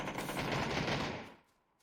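A burst of automatic gunfire in the battle-royale shooter PUBG rattles rapidly for about a second, then cuts off and fades into quiet.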